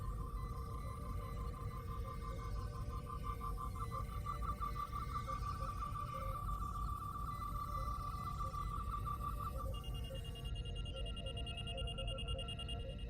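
Electronic beeping from the Star Trek: Resurgence video game, a rapid repeating tone that pulses steadily for about ten seconds before shifting to a higher steady note, faint and alone over a low background hum.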